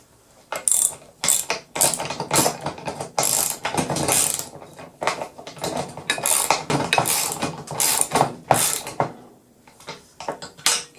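Ratchet wrench tightening a nut on a homemade camera boom, rapid rhythmic clicking bursts repeated close up throughout, with short pauses between strokes.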